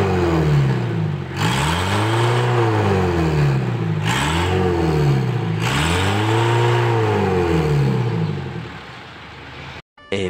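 A diesel car accelerates hard from around 10 to 15 km/h, its engine note rising and falling through repeated revving sweeps as it pulls through the gears, loud and close, cutting off abruptly near the end.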